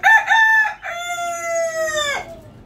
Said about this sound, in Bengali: মোরগটা কিভাবে ডাকতেছে।